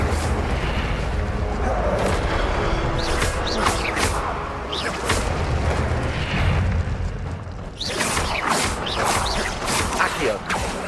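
Incendio fire spells cast repeatedly in the game Hogwarts Legacy, loud bursting whooshes and booms in a dense, continuous run of combat effects with a voice speaking over them.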